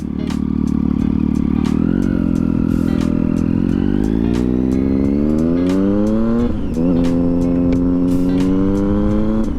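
Loud motorcycle engine riding on a road, with a continuous throaty roar whose pitch climbs steadily through the gears, a brief dip near the middle, and repeated sharp ticks over the drone, recorded close to the bike.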